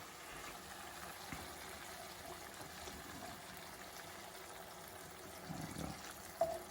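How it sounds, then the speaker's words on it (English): Cream is poured slowly into a bubbling Alfredo sauce, making a faint, steady trickle with quiet bubbling and a few soft knocks near the end. "you're gonna add 2 cups of cream. Add this very slow."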